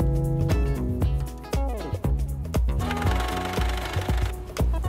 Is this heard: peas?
no